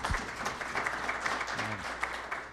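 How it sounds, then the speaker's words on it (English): Audience applause at a community-college panel Q&A, steady crowd clapping at moderate volume, with a brief low voice fragment near the start. "let's give them another round of applause"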